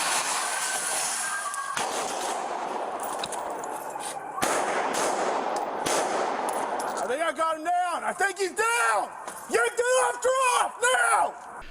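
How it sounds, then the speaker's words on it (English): Gunfire between a suspect and police officers outside a bank in Connecticut, heard as a dense run of sharp bursts and cracks through the first half, followed by excited talk and shouting over continued noise. "the suspect began firing again at police, and that's when officers returned fire"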